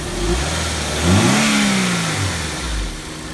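A Honda Civic Si engine runs and revs, rising in pitch to a peak near the middle and then falling back toward idle. It is fairly close, steady and loud, with no voices.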